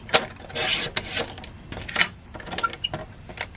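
A piece of card is being trimmed for cardmaking with a paper cutter. The close scraping slice comes with a run of small clicks and taps as the card is handled, and no one speaks.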